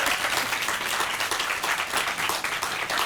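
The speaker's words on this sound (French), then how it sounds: "On peut les applaudir," Audience applause at a Corsican singing event, a dense, steady wash of many hands clapping fairly close, sustained without a break and with no talk over it.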